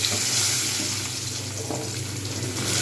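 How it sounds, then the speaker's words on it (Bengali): Cut potatoes frying in a pan for a home-style Bengali cabbage curry, a steady close sizzle with faint stirring and bubbling, continuous throughout with no talking. "এগুলো আমি ভালোভাবে ভেজে নেবো আলুগুলোকে"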